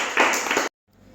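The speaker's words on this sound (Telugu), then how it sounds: "క్లాప్స్ అందరికీ" A classroom of young children clapping together, a short burst of brisk claps that stops abruptly, leaving near silence.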